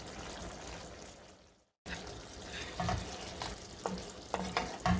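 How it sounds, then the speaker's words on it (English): Flat beans and potatoes cook in a pan over a low flame, giving a steady soft sizzle with occasional scraping stir sounds and light clinks. The sound drops out for a moment partway through. "I'll cook in low flame for about 2 minutes."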